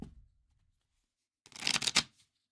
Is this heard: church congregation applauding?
no